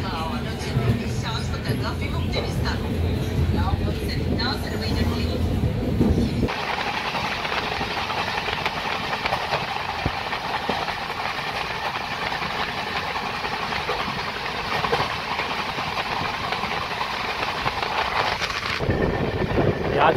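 A passenger express train pulls out of Bhuvanagiri railway station, its steady engine rumble and rolling noise continuous and fairly loud, with the tone shifting partway through as it gets under way.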